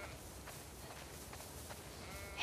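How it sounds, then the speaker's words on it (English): Sheep in the video game The Last of Us Part II give a few faint, distant bleats over a quiet background. "You definitely have way too many sheep."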